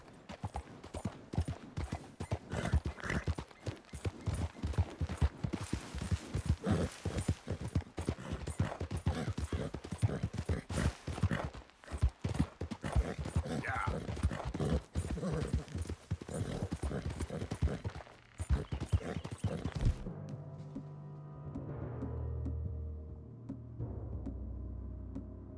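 Horse hooves clip-clop steadily in Red Dead Redemption 2, a close, continuous rhythmic trot that runs for about twenty seconds before giving way to quieter low ambient sound at the end.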